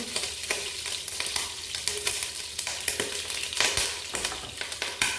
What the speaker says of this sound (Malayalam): അപ്പോൾ നമ്മുടെ പാൻ വെച്ച്, പാൻ ചൂടായിട്ടുണ്ട്. അപ്പോൾ അതിലേക്ക് നമുക്ക് ആവശ്യത്തിന് നെയ്യ് ഒഴിച്ചു കൊടുക്കാം.